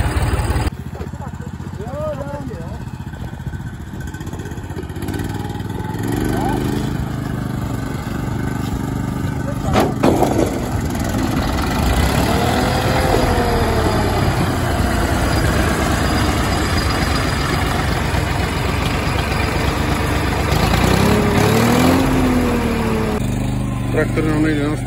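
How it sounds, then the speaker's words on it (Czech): A Zetor 3011 tractor engine runs steadily at a farmstead, a loud continuous chugging drone close by, with voices talking over it at times. "Traktor v pohodě, nastartoval."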